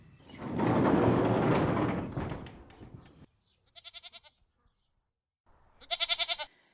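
Two short bursts of goat bleating, each with a quick pulsing tremolo, sound close and clear in a radio drama scene, following a loud rushing noise that cuts off abruptly.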